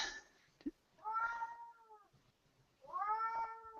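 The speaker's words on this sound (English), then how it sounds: "Does anybody hear the cat?" A house cat meows twice from a short distance, with two drawn-out, falling calls separated by a pause and a brief thump between them.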